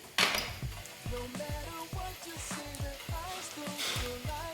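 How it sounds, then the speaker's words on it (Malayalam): Onions frying for a tadka in a pan, a steady sizzle with intermittent stirring scrapes and clinks, close and moderately loud, with a hint of music behind. "प्याज सब फ्राई हो गया"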